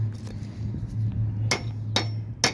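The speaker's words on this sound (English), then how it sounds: "loosen it with a hammer" Three sharp metallic hammer blows, about half a second apart, ring out over a steady low hum as a stuck part on a 1929 Chrysler lift is knocked loose.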